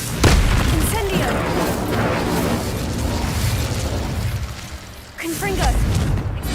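An Incendio fire spell in Hogwarts Legacy roars continuously, a loud rushing blast with heavy low rumble and bursts of crackle, briefly dipping before surging again.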